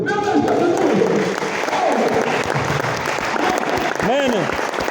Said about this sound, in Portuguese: Aplaudir para Jesus.